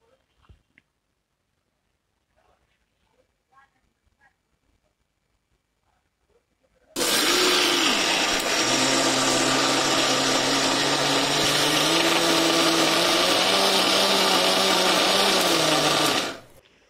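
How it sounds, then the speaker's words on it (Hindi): An electric mixer grinder whirs loud and steady for about ten seconds as it grinds dal with cumin and salt. It starts abruptly after a quiet stretch of faint kitchen clatter, its motor pitch wavering slightly, then cuts off. "अब इसे ग्राइंड कर लेंगे।"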